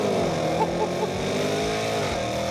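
Range Rover Sport SVR V8 engine accelerating hard from a standstill, a loud, continuous deep roar with rising harmonic tones, close and steady throughout.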